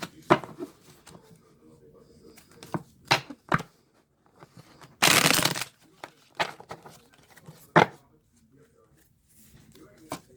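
A deck of tarot cards is shuffled by hand: scattered soft riffles and taps, then one dense, loud burst of cards cascading together near the middle, followed by a few more light flicks.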